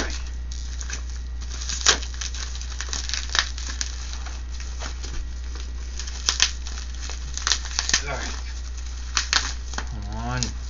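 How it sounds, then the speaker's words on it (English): Bubble wrap being pulled off a newly delivered camera, with close crinkling and crackling plastic rustles in bursts over a steady low hum. "The bubble wrap. Unwrap it."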